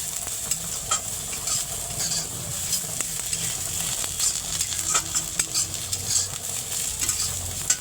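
Food stirred in a very hot pan, a close steady sizzle broken by quick repeated spatula scrapes and taps, no talk.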